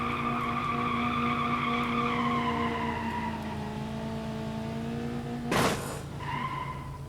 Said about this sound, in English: And it does do a burnout.